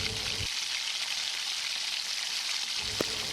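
Mutton curry sautéing in a pan with spices, a steady bright sizzle throughout with brief stirring scrapes near the start and end.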